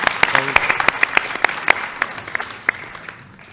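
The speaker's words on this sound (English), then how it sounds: "Round of applause for All 3D." An audience breaks into applause, a burst of scattered clapping that gradually thins out and fades over a few seconds.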